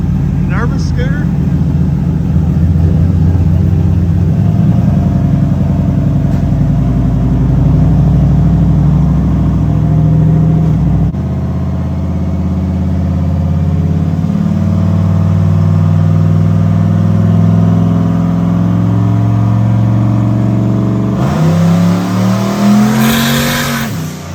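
A turbocharged LS 383 stroker engine in a Malibu revs hard on dyno rollers, running on pump gas at low boost; a loud, sustained engine roar climbs and holds close by, with a pitch shift near the end and people talking over it.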